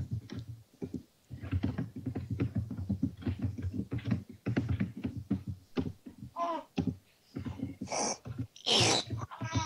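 Someone sneezes during a tabletop Dungeons & Dragons 5e session; people talk at a moderate distance, and near the end there are short, sharp, breathy bursts.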